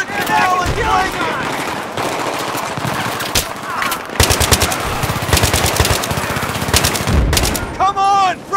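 Machine gun fire in Battlefield 3, rapid loud bursts of automatic shots with sustained rattling volleys, mixed with shouted voices and battle noise.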